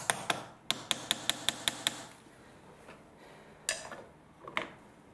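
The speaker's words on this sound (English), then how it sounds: "Just gonna tap this in a little bit." Sharp metal taps seat a battery clamp during a main battery replacement on a BMW F45 2 Series, a quick run of seven evenly spaced knocks followed by two more isolated taps, close and distinct against a quiet workshop background.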